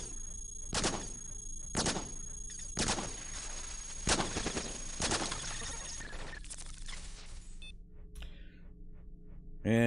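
Double shotgun blasts in the robot combat game Cogmind, a series of sharp, loud bursts repeating at a steady rhythm, followed by fading electronic tones and bleeps.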